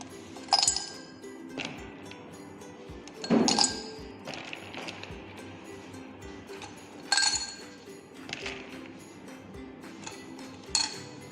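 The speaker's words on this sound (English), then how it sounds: "Put the ice in the beaker." Ice cubes dropped into a glass beaker for a school melting experiment, giving a few separate clinks and knocks spaced several seconds apart, fairly close and quiet, with no one talking over them.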